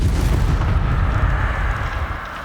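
A Confringo spell explosion in Hogwarts Legacy: a loud, deep, rumbling blast that booms and then tails off slowly.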